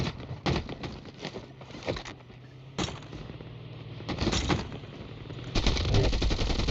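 Gunfire in a competitive Call of Duty Mobile esports match, with sharp bursts and rattling volleys of shots at uneven intervals, some loud and close and some further off, building into a sustained barrage near the end.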